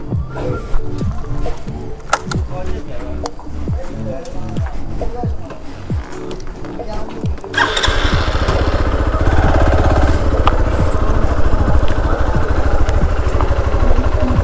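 A Hero Xpulse 200 4V motorcycle engine starts after a stretch of voices talking, then runs in a steady, loud idle that continues to the end.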